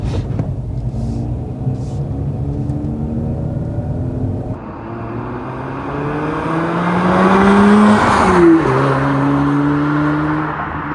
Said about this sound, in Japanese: やっぱロータリーはこの音がいいんですよね。